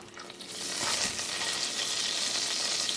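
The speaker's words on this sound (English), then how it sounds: "in our saucepan, we need to melt 3 tablespoons of butter" Butter melts in a saucepan, with a soft sizzle that builds after half a second and then holds steady, close by, with faint stirring.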